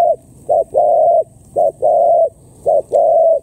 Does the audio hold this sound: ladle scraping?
no